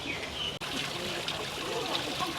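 Hot spring water at about 70 degrees trickles steadily at a park spring in Singapore, a constant soft wash with faint bird chirps in the background.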